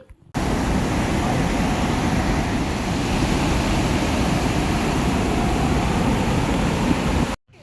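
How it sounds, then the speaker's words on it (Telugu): Steady, dense roar of rushing water, loud and unbroken throughout, like a nearby waterfall pouring continuously with no voices. "ఇక్కడ వాటర్ ఫాల్ చాలా అందంగా అయితే ఉందండి"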